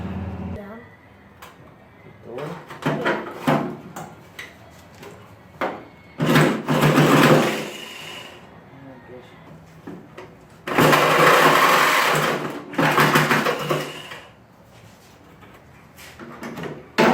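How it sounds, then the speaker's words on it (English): A jigsaw cuts through a Honda Civic car door in several loud rattling bursts of a few seconds each, separated by quieter pauses with handling noises and talk. "So I'm gonna get the jigsaw out and finish it off."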